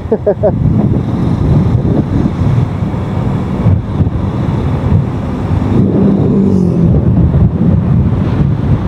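Steady cool wind at a raised spot near Chocolate Falls rushes and buffets across the microphone, a continuous low roar with voices faintly audible underneath.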